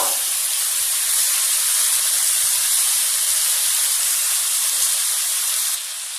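Drained boiled chow mein noodles dropped into a pan of frying vegetables give a loud, steady hiss and sizzle that holds evenly for about six seconds, then eases slightly at the end, with no talking.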